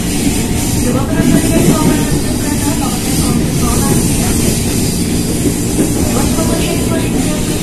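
A commuter train rolls from Matraman station toward Sudirman, with a continuous loud rumble and rattle of the carriage filling the whole stretch.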